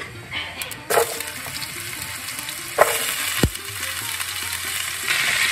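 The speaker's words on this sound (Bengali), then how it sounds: "বড়ি ভাজা হয়ে গেছে, এবার আমি মূলোটা দিয়ে দিচ্ছি" Pieces of radish go into sizzling oil in a pan, giving a steady close sizzle with a few sharp clatters and scrapes as they drop in and settle.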